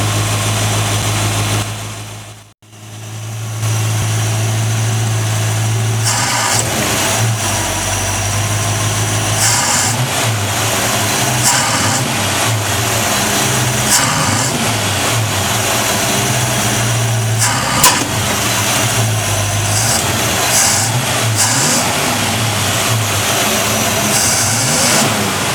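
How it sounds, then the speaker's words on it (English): A 1957 Chevrolet engine, freshly fitted with a new distributor and still backfiring, fires up after a brief silence and then idles and revs steadily, loud and close with no talk. "we still got a backfire going on here"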